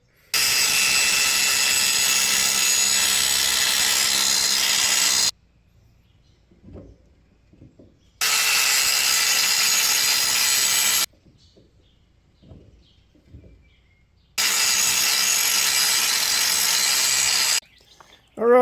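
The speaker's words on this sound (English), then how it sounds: "I'm going to take a grinder and bevel this down so hopefully I can get a nut back on there" An angle grinder beveling the mushroomed end of an axle stud on a trail rig, three loud sustained grinding runs of several seconds each, separated by quiet gaps with faint handling noises.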